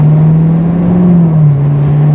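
A C7 Corvette pulls away hard from a standstill, its engine a loud, close, steady drone that rises slightly in pitch and then dips, filling the short burst on its own with no talking.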